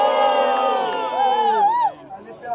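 A crowd at a rap battle cheers and yells, a loud burst of many overlapping voices that fades after about two seconds.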